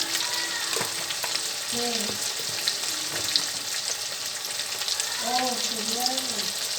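Tengra fish frying in oil with turmeric and salt, a steady loud sizzle with stirring clatter throughout and a few high squeaks over the hiss.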